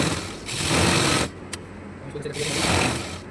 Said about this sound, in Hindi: हमने एक तरफ से फॉर्म को सिल दिया है।